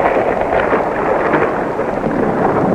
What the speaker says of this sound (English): When summer heat and mountainous terrain breed towering thunderheads.